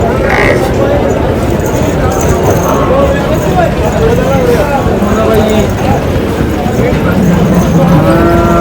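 Buffaloes low amid the babble of a crowded livestock market in Rampura Phul, with people talking loudly over the animals throughout.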